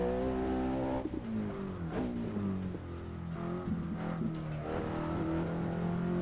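A Volvo driven at full throttle in the Assetto Corsa racing game, its engine droning loud and steady, pitch climbing and dropping through several gear shifts with occasional brief tire noise.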